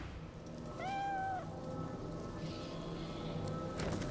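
A cat in Divinity: Original Sin 2 gives one clear, drawn-out meow about a second in, heard alone over a soft, steady rain-like ambience from the game.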